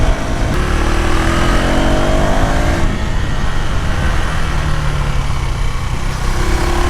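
A KTM Duke 390R motorcycle engine runs steadily while riding, a loud continuous drone with shifting harmonic pitch and an audible gear change partway through, mixed with wind and road noise and no talk.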